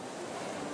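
Ocean surf rolls in at a surfing championship in Ajaccio, a steady, loud wash of breaking waves filling a short moment with no voices.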